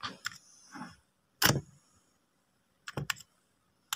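Computer keys clatter in a few short bursts of quick taps at close range, with silent pauses between the flurries.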